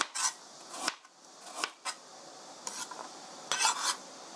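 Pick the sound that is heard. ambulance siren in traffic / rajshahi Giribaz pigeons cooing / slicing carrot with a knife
slicing carrot with a knife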